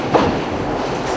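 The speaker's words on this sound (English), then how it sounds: "The flattened steel is then cut into squares called blanks inside this machine." A factory machine cutting flattened steel into square blanks, with a dense, steady clattering roar like a train rolling over tracks.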